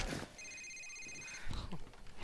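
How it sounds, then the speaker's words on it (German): A cell phone rings in the Call of Duty 4 Modern Warfare video game, a short electronic ringtone chirping under game ambience, with brief voice sounds around it. "Handy klingelt."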